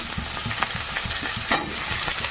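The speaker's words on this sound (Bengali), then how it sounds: "লবণ আর হলুদ মাখানো বেগুনগুলো দিয়ে দেবো দেওয়ার সঙ্গে একটু ভেজে নেবো" Brinjal pieces coated in salt and turmeric sizzle in hot oil in a pan for a mango-brinjal curry, a close, continuous crackle broken by scraping stirs and one louder burst partway through.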